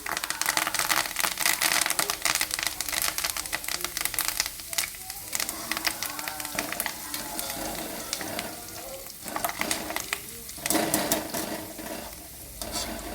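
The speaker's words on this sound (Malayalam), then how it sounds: "എണ്ണയിലേക്ക് കുറച്ച് കറിവേപ്പിലയും കൂടെ ഇട്ട്" Continuous crackling sizzle of curry leaves frying in oil, loud and close, with occasional stirring scrapes throughout.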